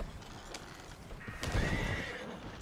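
Horses in Red Dead Redemption 2 give a loud neigh and whinny over a bed of hoof clip-clops and game ambience, close and continuous throughout the short stretch.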